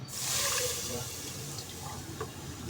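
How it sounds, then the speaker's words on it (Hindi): Soaked split mung dal with husks and water poured into a cooking pot: a brief rushing splash right at the start that quickly settles into a softer, fading wash of liquid. "अब हम एक हांडी लेंगे, इसके अंदर मैं दाल डाल दूँगी।"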